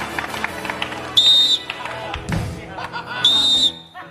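Two short, shrill whistle blasts ring out about two seconds apart, loud and piercing over a busy background of people talking and thumping movement.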